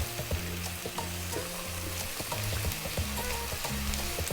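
Chopped garlic and ginger frying in a pan, a dense close sizzle with repeated scraping and stirring strokes against the metal, loud and continuous.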